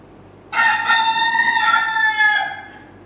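A man imitating a rooster crowing, one loud, close cock-a-doodle-doo call rising and stretching out for about two seconds before trailing off.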